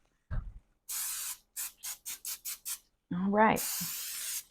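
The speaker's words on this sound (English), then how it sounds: "Just going to rotate it here, spray along all the sides." Cooking spray misted onto a cast iron fluted cake pan in a series of hissing bursts: one long spray, six quick short pulses, then another long spray, with a brief spoken remark between them.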